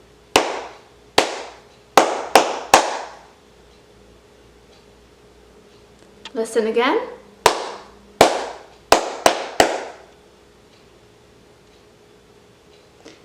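Sharp hand claps beat out a short rhythm pattern for students to echo, a group of five, a brief spoken line, then another quick run of claps in a quiet room.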